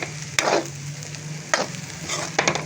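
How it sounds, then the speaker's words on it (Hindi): Fried rice being stirred and tossed in a pan after Maggi masala goes in, with a steady sizzle beneath three sharp scraping strokes of the spoon against the pan, close and fairly loud. "मैगी मसाला मैं डाल दूंगी और 2-3 सेकंड में ऐसे इसको चला दूंगी, उलट पुलट कर दूंगी इसको"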